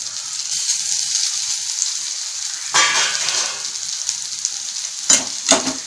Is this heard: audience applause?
no